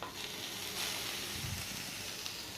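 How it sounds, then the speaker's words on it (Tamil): Grated carrot sautés in ghee in a pan, giving a steady close sizzle and hiss with faint stirring scrapes and no voices. "இதை நம்ம நெய்லேயே ஒரு 5 மினிட்ஸ் வதக்கிக்கலாம்"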